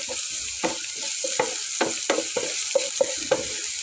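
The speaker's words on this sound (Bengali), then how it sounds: "পেঁয়াজটা একটু হালকা নাড়াচাড়া করে" Onions sizzle steadily in a hot pan while a utensil stirs them in repeated scraping strokes, close and continuous with no talking.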